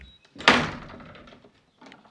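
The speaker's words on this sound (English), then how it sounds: "They didn't like that, so they slammed shut on me." A car door slams shut with a loud, close thump and rattle, its decay trailing off over a second, preceded by faint handling sounds and followed by brief low noise.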